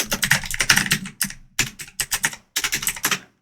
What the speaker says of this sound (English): you can open a new tab and then you go ahead and you type Oracle